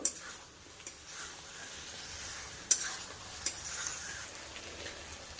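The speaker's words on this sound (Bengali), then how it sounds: "ভেজে রাখা আলু আর পটলটা দিয়ে আবারও খুব ভালোভাবে সব মশলার সাথে কষিয়ে নেব।" Fried potato and pointed gourd are stir-fried with spices in a pan, giving a steady close sizzle with a few sharp utensil clicks and scrapes over a quiet, continuous hiss, no talking.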